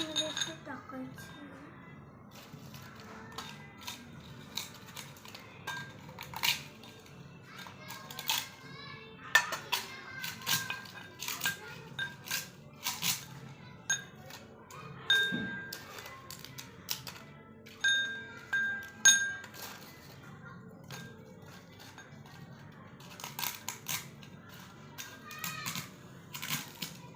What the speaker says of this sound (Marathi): पापड मोडून घेते उकळीमध्ये.